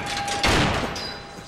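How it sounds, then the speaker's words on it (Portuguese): A single loud gunshot is fired at a shadow in a Spider-Man film scene, a sudden sharp blast with a short echoing decay against a quiet tense background. "tem uma hora que ele atira na sombra do Peter por motivo nenhum"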